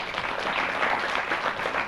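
A studio crowd applauds loudly and steadily for the production crew during a youth sports broadcast in Djibouti, a dense, even wash of many hands clapping throughout.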